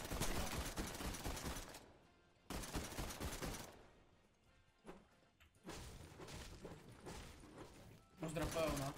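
Rapid bursts of video game gunfire from an SMG-like weapon come in dense volleys separated by brief pauses, loud and close, like automatic weapons firing in quick succession.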